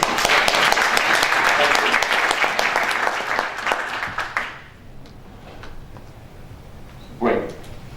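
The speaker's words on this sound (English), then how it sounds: "So give a round of applause." Event audience breaks into loud applause for about four seconds, then it dies away into quiet room tone with a brief voice near the end.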